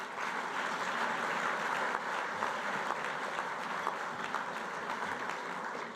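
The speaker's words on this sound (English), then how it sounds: "I think he deserves a round of applause." A dense, sustained wash of clapping from a room full of guests at a charity lunch, steady and even in level throughout, heard from within the crowd with no voices standing out.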